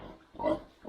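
A farm pig lets out a single short, nasal grunt-squeal, close and moderately loud against quiet background rumble.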